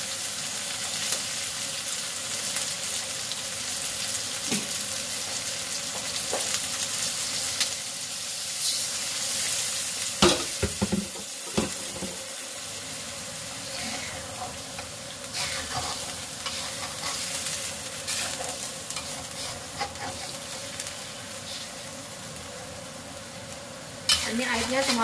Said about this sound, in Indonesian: Ini airnya cuma buat matengin ayamnya aja